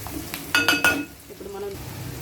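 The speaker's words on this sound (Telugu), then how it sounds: "చూసారు కదా, ఆనియన్స్ అయితే బాగా రోస్ట్ అవ్వాలి, గోల్డెన్ బ్రౌన్ వచ్చేదాకా వేసుకోవాలి" Onions fry in a pan toward golden brown, a close sizzle broken by a few quick metallic clinks of stirring, with a faint voice in the background.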